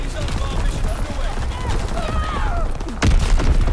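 Artillery batteries fire in a first-person shooter game, a dense rolling barrage of booms and rapid gunfire with a heavy impact near the end, under game radio voices and other chatter.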